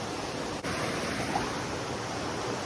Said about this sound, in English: it's a pretty good waterfall right over there. Drops right down